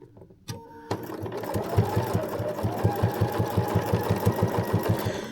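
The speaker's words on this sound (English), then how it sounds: "this is a 1/4 inch foot on my sewing machine. I'm sewing right here inside that" A sewing machine with a quarter-inch foot topstitches a fabric bowl cozy, running steadily with a fast, even mechanical rhythm of needle strokes, close and clear after a short start.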